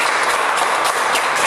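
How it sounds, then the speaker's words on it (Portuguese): Applause from a church congregation during a Baptist celebration service, a dense, steady wash of clapping filling the whole moment at close range with no talk over it. "Você pode dar uma salva de palmas"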